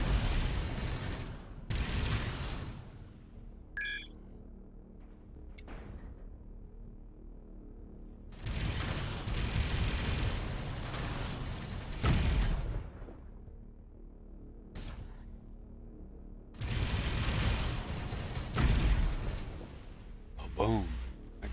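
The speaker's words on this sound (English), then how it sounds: "The cannon goes off" Cannon fire in the space game Avorion, several heavy bursts of booming shots with long rumbling tails, separated by quieter gaps, fairly loud and close.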